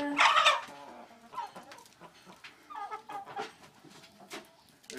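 Birds feeding on a plate give scattered clucks and chirps, with one loud close call at the start followed by softer irregular calls and pecking.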